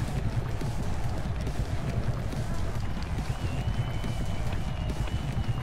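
Rapid, rhythmic galloping hooves from a horse racing video game drum continuously at moderate volume under a wash of game noise while people talk over it.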